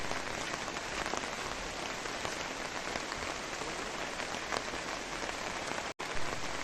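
Steady rain falling at a cave park during a memorial merit-making ceremony, a dense, even hiss of drops on surfaces that continues unbroken at moderate volume.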